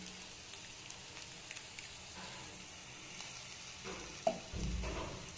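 A semolina sandwich fries in a small amount of oil, giving a faint, even sizzle with light scattered crackles and a soft thump near the end.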